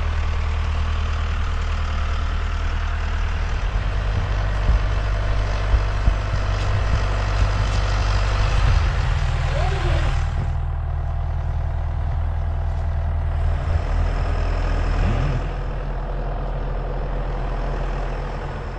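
A farm tractor engine runs steadily as it crosses a field, a loud, continuous low diesel drone with rough idling texture, holding constant throughout, with occasional faint knocks and rattles over the top.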